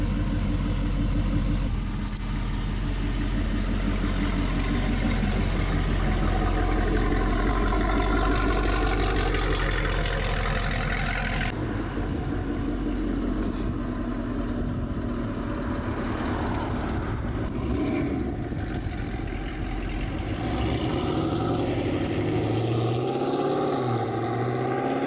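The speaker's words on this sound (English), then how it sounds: "we can take it for a spin" A Dodge Charger Scat Pack 392 fitted with a full Corsa exhaust drives with a steady, loud low engine rumble that shifts in character partway through, with no talking.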